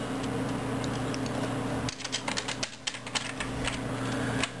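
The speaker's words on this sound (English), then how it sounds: "I'm also reviewing some beer advocate as we sort of speak, which is why I'm clicking and typing and so forth." A computer keyboard and mouse clicked and typed on nearby, a quick run of crisp taps and clicks over a steady low hum, starting after a short quieter stretch.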